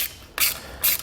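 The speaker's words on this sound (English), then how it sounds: "I'm just gonna hold the nut by hand with an 11mm socket." An 11mm socket ratchet works a nut on a hidden front-mount trailer hitch, giving two short bursts of clicking, close and fairly crisp, with no talking.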